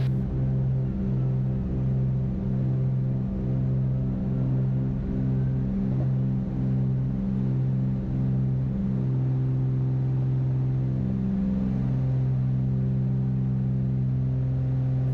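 A twin-engine Cessna 310 climbs out after takeoff, its two piston engines droning loud and steady with strong harmonic bands, holding a near-constant pitch for the full stretch with no voices.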